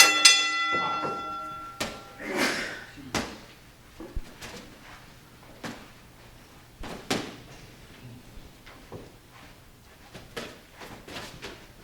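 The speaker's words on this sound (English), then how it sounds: "Ring the bell so they can get started." A boxing ring bell rings once to start sparring at a boxing seminar, leaving a bright metallic tone that decays quickly. Scattered thumps, knocks and brief voices follow in the gym.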